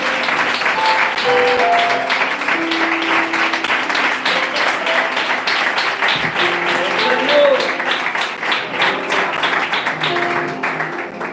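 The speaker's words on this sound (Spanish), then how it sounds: "dar un fuerte aplauso al Señor" A church congregation in Benidorm bursts into loud, sustained applause, a thick wall of clapping that lasts over ten seconds with scattered voices and calls mixed in.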